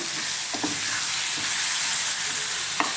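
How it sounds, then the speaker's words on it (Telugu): Tomatoes are stirred into golden fried onions in a pan for prawn tomato curry. The close, continuous sizzle is broken by a few scraping stirs of the spoon. "ఇప్పుడు టమాటా వేసేసుకుందాం అండి ఇందులో ఒకసారి అంతా కలిపేసుకుందాం"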